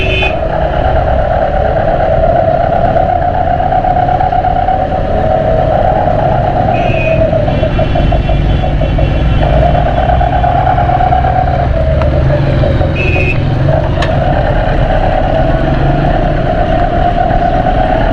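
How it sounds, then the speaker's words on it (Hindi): Stop-and-go traffic jam of cars, trucks and motorcycles at a red light, with a steady engine drone and idling hum, a couple of short high beeps and horn-like tones cutting through, heard close from a motorbike. "यहाँ तो ट्रैफिक जाम है यार"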